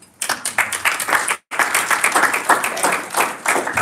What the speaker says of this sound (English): So big applause to him.